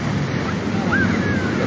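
Ocean waves surge onto a beach in south Sukabumi during a high tide, a steady loud wash of surf blended with wind rumble across the whole stretch, with no talk.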